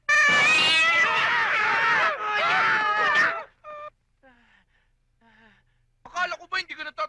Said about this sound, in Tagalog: Nagulat ako sa pusa.